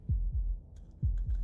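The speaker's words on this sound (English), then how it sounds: "That was the sound of a heartbeat," Heartbeat from the video game Slay The Princess: two deep, booming lub-dub thumps, loud and close, each pair followed by a short gap, with faint soft ticks above.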